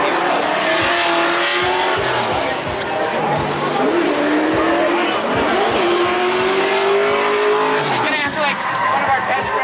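A Nissan Skyline drifts at a Driftcon event, its tires squealing in long wavering shrieks over a loud, continuous engine roar, with voices talking through the noise.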